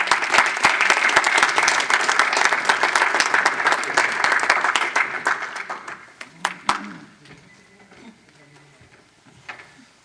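Applause from a small audience at an Urdu poetry gathering, a mini mushaera, dense clapping that holds steady for several seconds and then tapers off into a few scattered claps and quiet room noise.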